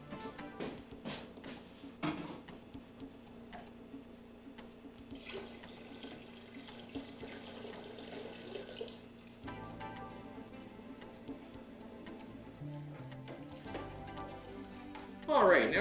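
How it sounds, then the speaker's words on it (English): Hot water runs steadily from a sink tap for a brew pot, a continuous rushing stream, with speech heard over it. "we're going to go back over to the sink, get some hot water,"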